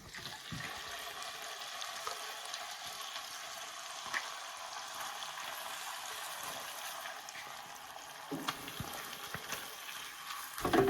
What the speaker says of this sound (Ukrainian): Поки наша курочка смажиться